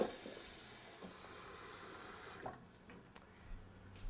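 Tap water runs steadily into a cup or pan in a home kitchen while preparing polenta, a continuous hissing flow that cuts off partway, followed by a few light clinks and handling sounds.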